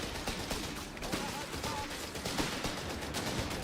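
A high explosive mortar barrage in Company of Heroes 3 gives off a dense, continuous rumble of overlapping blasts and crackling impacts at moderate loudness, with faint voices underneath.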